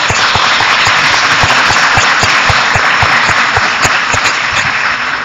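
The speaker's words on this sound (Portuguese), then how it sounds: "Eu queria que vocês dessem uma salvada de palmas para as orquídeas." An audience at a lecture gathering gives loud sustained applause, many hands clapping in a thick, even roar that holds steady from start to finish.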